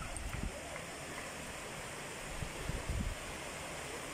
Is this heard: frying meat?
no